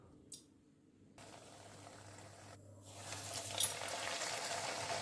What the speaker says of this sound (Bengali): হাই গ্যাসে ভেজে নিতে হবে।